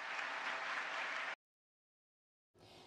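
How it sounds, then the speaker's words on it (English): Applause for the Prime Minister of Canada at the APEC 2024 summit in Peru, a loud dense burst of clapping that cuts off abruptly to silence, then resumes faintly near the end. "a round of applause for the Prime Minister of Canada"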